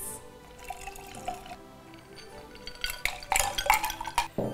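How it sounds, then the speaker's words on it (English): Drinking straws stirring the ingredients of a festive cocktail in a glass, giving soft watery swishes and light clinks that grow busier and louder toward the end, with no talking. "use the straws to give all those ingredients a stir, cool the drink down, and also just muddle it one last time"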